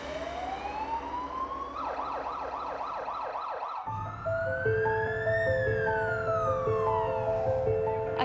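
An ambulance siren wailing up close, first a rapid yelp cycling several times, then switching to a slower rising and falling wail, loud and steady over a low vehicle rumble.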